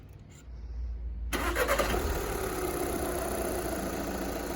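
A 2013 VW Jetta TDI diesel cranks briefly and fires after a fuel filter change, then settles into a steady, loud idle that runs to the end.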